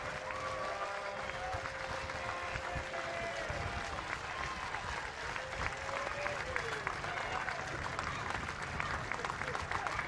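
A baseball stadium crowd at a Blue Jays game roars steadily with the bases loaded and two strikes on the batter, a broad sustained cheer with faint voices mixed into the din.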